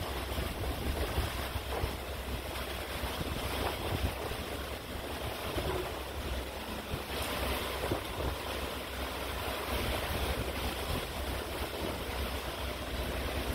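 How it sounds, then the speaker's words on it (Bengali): Stormy wind roars steadily during the first rain of the season in Hyderabad, a constant broadband rush with gusty swells and buffeting against the microphone, no voices present. "কি ঝোড়ো হাওয়া"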